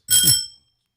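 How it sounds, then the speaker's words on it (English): A single bright bicycle-style bell ring, sharp strike with a shimmering metallic tone that decays within about half a second, close and clear with no voices over it. "Bell"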